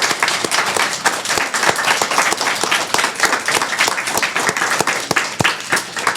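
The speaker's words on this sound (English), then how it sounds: "round of applause?" A seated audience at a community speaker series gives a round of applause, dense steady clapping from many hands that carries through the whole stretch without a break.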